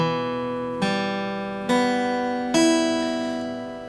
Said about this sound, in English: try hitting 1 string at a time.